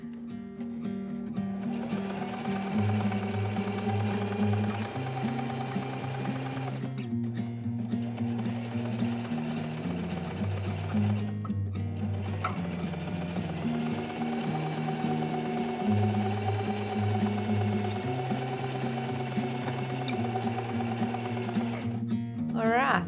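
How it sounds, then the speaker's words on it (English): A sewing machine runs a zigzag stitch along a fabric edge of a maxi skirt, a loud continuous motor hum and needle chatter up close with brief stops, and music or voice sound layered beneath. "I'm about to do the zigzag stitch just along the edge so that we prevent a bit of fraying"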